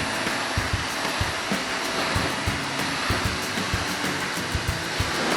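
A pressure-washer spray rinses soap off a 2020 Chevrolet Camaro SS at a car wash, a loud, continuous hissing rush with small uneven bursts as the stream moves over the body.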